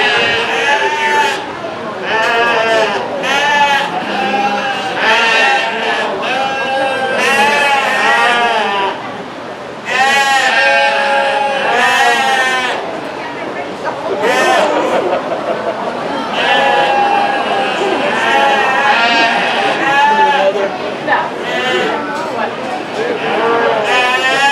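Many sheep, including Dorsets and Suffolks, bleating at a youth sheep show, loud overlapping calls coming in repeated bursts close by, with people talking in between.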